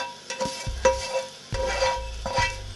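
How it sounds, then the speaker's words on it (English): A metal utensil scrapes across a frying pan in a home kitchen, several separate strokes with short gaps between them, close and fairly loud, each one a grating scrape with a dull thump. "this is where my mum is telling me, oh, don't scrape that pan, don't scrape that pan"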